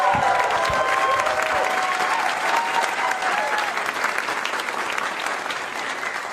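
A comedy club audience at Gotham Comedy Club breaks into loud, sustained applause, a dense wash of clapping with scattered cheers that slowly tapers off.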